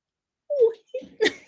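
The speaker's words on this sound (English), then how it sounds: "his dog is here." A dog whimpers and whines in a few short, close, high-pitched cries in a quiet home, with no talking over it.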